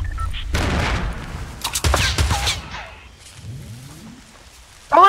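Rapid gunfire bursts and booms from a Fortnite video game firefight, with loud, close shots clustered early and a final sharp burst at the end.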